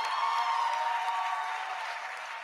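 An audience at an induction ceremony for newly qualified medical and dental practitioners applauds Dr. JPRD with steady, continuous clapping that is moderately faint and tapers slightly toward the end.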